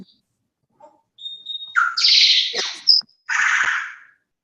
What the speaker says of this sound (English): We have the birds accompanying us.